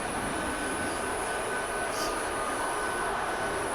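An F-22 jet engine in the DCS flight simulator, idling as its RPM settles: a steady, loud roar with a thin high whine running through it, unbroken and with no talking.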